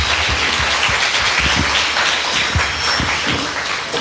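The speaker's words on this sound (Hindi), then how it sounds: "एक जोरदार ताली कृष्णा ब्रदर और उनके पूरी टीम के लिए।" A church congregation applauds, with a dense, loud, continuous wash of many hands clapping close by and no talking over it.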